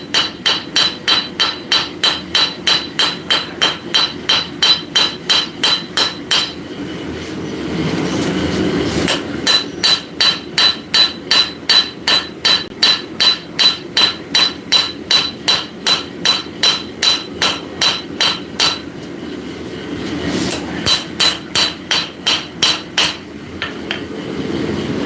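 A cross peen hammer draws out hot metal in a forging workshop, striking in fast, even, loud ringing blows. Two long runs of strikes are separated by short pauses.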